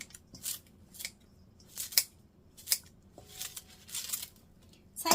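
Knife slicing cucumber and other kimchi ingredients into small pieces, a series of crisp separate cuts about once per second, close and moderately loud.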